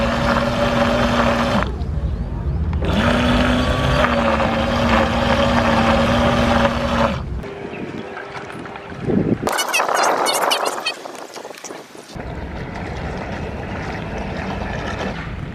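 The small electric motor of a Flytec 5th-generation RC fishing bait boat whirs loudly in bursts on water, cutting out briefly between runs, with splashing water and outdoor background noise.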